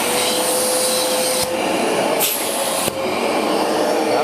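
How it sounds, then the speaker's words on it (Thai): A Festool dust extractor connected to a Festool Kapex KS 120 sliding compound miter saw roars steadily at close range, its suction cutting out in two short pulses to clear debris from the hose. "มันจะช่วย ดูดแบบกระตุกให้พวกเศษที่มันติดอยู่ในท่อครับ ออกให้หมด"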